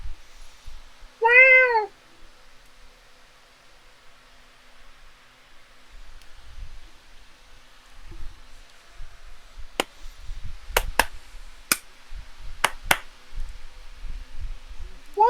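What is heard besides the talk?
cat meowing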